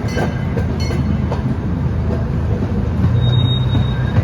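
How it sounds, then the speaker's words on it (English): A zoo train at Santa Barbara Zoo rolls steadily along rails with a constant rumble, faint clicks and a thin metallic squeal near the end, heard from the middle of the train. "There's the train. We're in the middle of the train."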